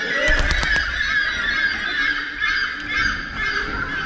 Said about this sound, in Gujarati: તમે જો આખો અવાજ તમે સાંભળશો તો અલગ અલગ પક્ષીઓનો અવાજ તમને